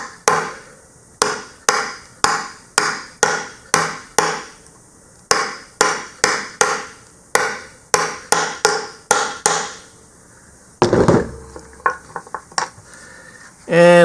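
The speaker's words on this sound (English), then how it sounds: "What I'm going to do is I'm going to install that with a grommet die set." A spur grommet is set into webbing with a grommet die set, heard as a long series of sharp, evenly paced metallic hammer strikes, close and loud, followed by a few lighter taps and handling noise.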